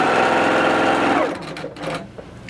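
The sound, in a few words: Little Rebel sewing machine running at full speed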